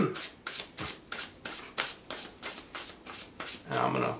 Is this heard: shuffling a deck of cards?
yes